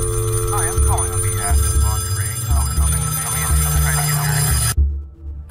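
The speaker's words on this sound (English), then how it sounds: "Our story begins with a phone call." An old-style telephone rings with a trilling bell under a low hum and some indistinct voices, then stops abruptly.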